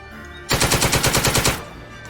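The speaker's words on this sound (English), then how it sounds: "So they're firing with the light machine gun." Light machine gun sound effect from a World War II tactical squad-level tabletop wargame, a loud rapid burst of about ten evenly spaced shots lasting one second, then fading, with no talk.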